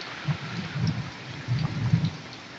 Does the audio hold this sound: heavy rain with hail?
yes